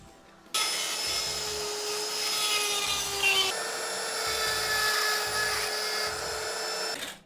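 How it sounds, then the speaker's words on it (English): A Dremel rotary tool with a diamond bit whines at high pitch, grinding steadily against a surface to roughen it, pausing briefly midway before grinding on, then stopping abruptly. "we'll use a Dremel to. That's called the Dremel."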